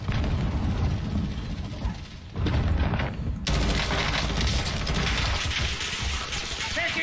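Gunfire in the Warzone video game, a dense, continuous barrage of shots and blasts filling the whole stretch, loud and close, with a brief dip before the firing surges again.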